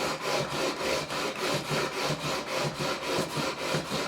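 A 240-grit heavy-duty leveling beam is rubbed back and forth along the frets of a Korean-made Squier Stratocaster, steady rhythmic rasping strokes about twice per second, close and alone.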